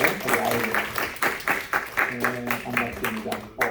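A church congregation claps to welcome visiting family members during a Sunday service, rhythmic group applause with a low voice speaking underneath.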